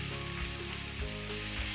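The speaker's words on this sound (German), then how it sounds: "Da gebe ich 3 Esslöffel Olivenöl ungefähr rein und dann brate ich mir das ganze Gemüse erstmal an." Vegetables fry in about three tablespoons of olive oil in a hot pan, giving a steady close sizzle with occasional stirring clatter and scraping, with no voices.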